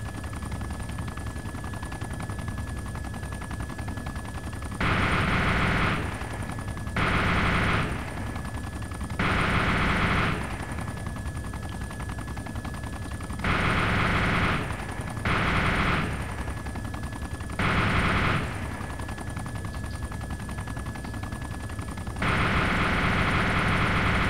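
Machine gun fire in the ArmA 2 video game during helicopter close air support, coming in several loud bursts of a few seconds each, separated by short gaps, over a steady background rotor and engine hum.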